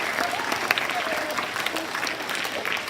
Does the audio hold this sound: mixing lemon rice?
no